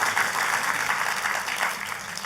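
Church congregation applauding, a dense, steady wash of many hands clapping together, loud and continuous through the whole short stretch.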